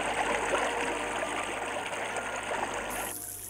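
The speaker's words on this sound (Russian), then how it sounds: "Послушайте вечную песню о гурских водопадах." Steady rushing water of the Gurskie waterfalls, a continuous broadband roar that holds at the same level throughout and cuts off slightly near the end.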